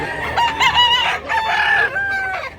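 A rooster crows loudly and close, its long strained calls repeating with clucking between them, no voices.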